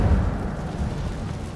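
Cast in Hogwarts Legacy, the Incendio fire spell makes a short, heavy whoosh and burst of low roaring flame, loud at first and then fading quickly over a second and a half.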